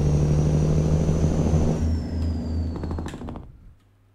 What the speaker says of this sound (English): Obviously you can hear the turbo and the whooshing sound